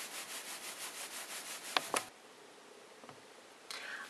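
Felt fibres are rubbed firmly by hand to make an Artfelt coral reef picture, giving a steady, rhythmic scratchy rubbing. It stops partway through, followed by a couple of brief clicks and a quiet stretch.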